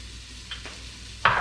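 Garlic for a marinara sauce in a pan over medium-low heat, a steady close hiss of sizzling oil, ending in a brief louder burst as the garlic hits or is stirred.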